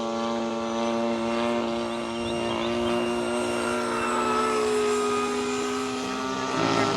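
A HobbyKing F-35 70mm electric ducted fan RC jet in flight, a sustained high whining fan tone that shifts slightly in pitch as it passes, steady and moderately loud throughout with no talk.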